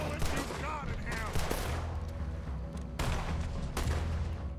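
Rapid bursts of gunfire fired at a giant alligator in Red Dead Redemption 2, overlapping volleys and sharp shots cracking close and loud, with voices shouting over the shooting.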